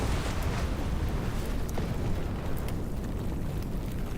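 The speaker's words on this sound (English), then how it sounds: "The explosion roared to life. The 3-story building crumbled along with its support columns." An explosion brings down a three-story building with its support columns in the video game Love and Deepspace, a dense, loud, sustained roar and rumble of blast and collapse with no talking.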